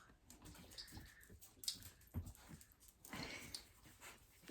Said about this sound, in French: Le chien se gratte.